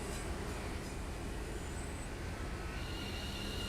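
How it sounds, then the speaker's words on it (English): Modern Class 710 electric train in Train Sim World 4, running with a steady low rolling rumble and faint high electric whine, continuous and moderately loud with no talk. "It is a very modern train, this one."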